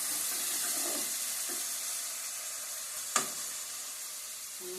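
Onions frying in a pot for a goat head curry give a continuous loud sizzle and hiss, with a single brief clink partway through.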